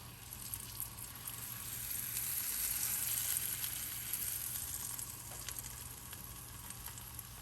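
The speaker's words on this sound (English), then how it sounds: "So we got my first one, grilling in butter." Shrimp taco sizzling in butter on a grill, a steady close frying hiss that swells slightly midway and holds without a break, with no talking over it.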